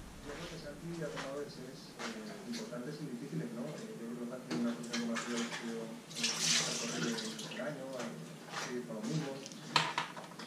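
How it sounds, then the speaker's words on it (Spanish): Water streaming steadily into a small plastic water bottle being filled for a trail run, a continuous splashing rush with a voice talking over it throughout. "simplemente aquí tenemos la botellita y llenamos"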